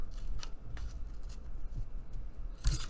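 Scissors snip through paper for a craft purse in a few quick, close crisp cuts, with soft handling rustle between them and a louder snip near the end.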